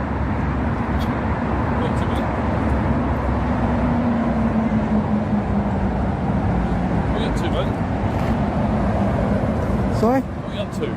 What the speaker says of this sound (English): I can't hear you, the traffic.